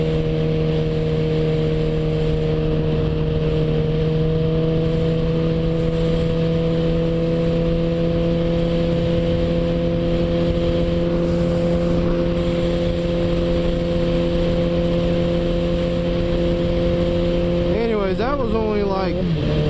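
A 2016 Kawasaki ZX14 motorcycle holds a loud, close, steady engine drone under hard throttle, with a short rising rev shift near the end.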